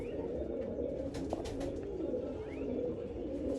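Pigeons cooing steadily in a low, throaty rumble, several birds close by, with a few faint chirps and rustles mixed in.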